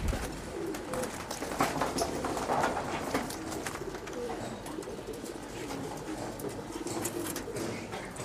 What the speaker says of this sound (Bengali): এটা নর কবুতর আছে